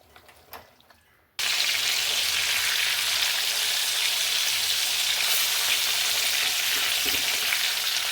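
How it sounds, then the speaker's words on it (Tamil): After a few quiet kitchen clinks, a loud, steady hiss of jilebi fish curry boiling hard in a pot starts abruptly and continues evenly up close, with no one talking. "குழம்பு நல்லா கொதிச்சிருச்சு"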